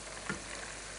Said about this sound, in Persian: و می شکل آیسته آیسته سرخ میشه و آماده هم میشه گوشت